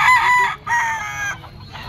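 A bull stag rooster at a gamefowl grotto gives a close, loud crow in two bursts with a short break between them, followed by softer clucking.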